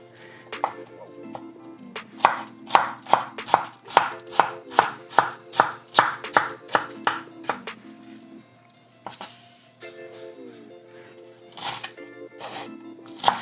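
A knife chops rice-dish ingredients on a cutting board in a fast run of about a dozen sharp, close knocks, then pauses before a few more scattered chops over a low background hum.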